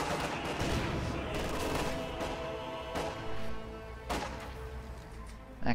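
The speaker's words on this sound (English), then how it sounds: "Grenade going out." A grenade bursts in a real-time strategy battle game amid continuous distant gunfire and explosions, with several sharp blasts standing out from the steady combat rumble.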